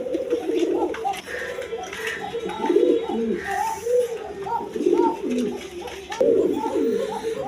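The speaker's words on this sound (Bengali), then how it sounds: "দেখেন একদম বিগ সাইজের কবুতর, কোয়ালিটি সম্পন্ন কবুতর, রাজগোল্লা কবুতর" Large, big-bodied Rajgolla pigeons on a farm give repeated, overlapping low coos in a steady rhythm, close and clear throughout.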